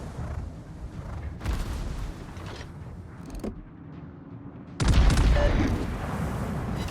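German battleship Mecklenburg firing its main guns in World of Warships, a loud booming salvo bursting in near the end over rumbling mechanical creaks and earlier muffled blasts.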